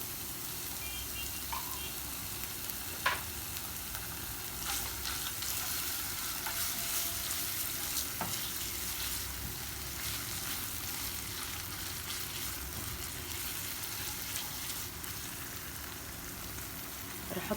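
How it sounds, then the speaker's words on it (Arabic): Spices frying in a pan as they are stirred, a continuous close sizzle with occasional scrape and clink of the spoon, steady throughout. "بقلبهم هيك لحد ما تطلع ريحتهم شوي"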